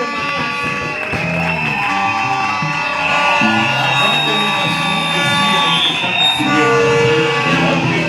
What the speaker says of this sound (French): On acclame très fortement.